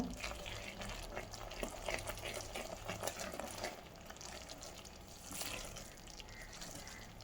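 A Mysore pak mixture is stirred in a nonstick pan, giving a steady wet, scraping swish with soft sizzling, close and continuous with no talk over it.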